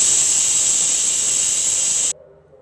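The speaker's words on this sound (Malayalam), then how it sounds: "ഇനി ഇത് കുക്കറിൽ ഒരു 4 വിസിൽ അടുപ്പിക്കാമേ." Pressure cooker on the stove venting a loud, steady hiss of steam while jackfruit seeds cook inside, the jet cutting off abruptly after about two seconds and leaving quiet.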